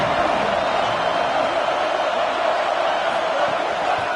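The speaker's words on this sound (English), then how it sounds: "This crowd ready to make its presence known." A stadium crowd at an Auburn versus Georgia college football game sends up a dense, steady roar of cheering and whooping, loud and unbroken with no single voice standing out.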